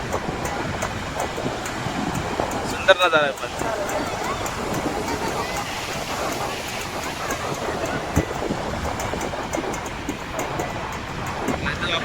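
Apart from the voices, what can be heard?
sea waves and wind at Harihareshwar beach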